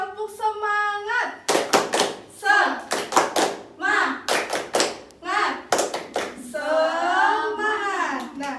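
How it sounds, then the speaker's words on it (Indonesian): A class of children chants a call-and-response while clapping a rhythmic 'tepuk semangat' spirit clap, quick bursts of claps alternating with voices in a classroom. "kita melakukan tepuk semangat terlebih dahulu ya"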